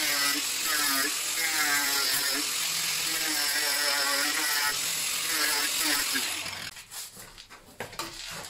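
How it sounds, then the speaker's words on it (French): An angle grinder cuts through PVC tube with a loud, high whining buzz that wavers in pitch for several seconds, then stops, leaving clattering handling sounds. "maintenant on va prendre la disqueuse et on va découper ça proprement"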